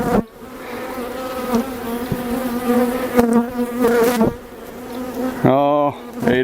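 Honey bees buzz loudly and steadily at an open hive during a Demaree-manipulated colony inspection, the close drone shifting in pitch as insects fly past, with a sharp burst of nearby buzzing near the end.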